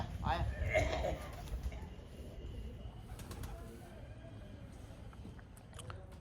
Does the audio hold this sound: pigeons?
yes